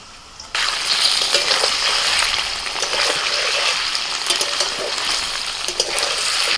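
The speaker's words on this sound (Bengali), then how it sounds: "পনিরগুলো ভেজে নেব।" Paneer pieces dropped into hot oil in a pan burst into a loud, bubbling sizzle after a quiet moment, continuing close and steady with faint stirring.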